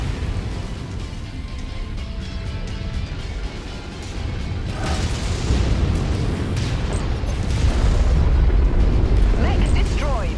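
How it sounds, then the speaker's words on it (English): A destroyed mech explodes in the video game Mechwarrior 5, a heavy rumbling blast that swells and keeps roaring over several seconds, with crackling debris and game voice lines. "Mech destroyed."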